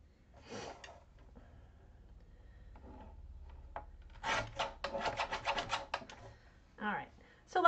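Scissors trim a card to size for a passport card, with quiet scattered snips and rubbing and then a quick close run of cuts, and faint breathing in between.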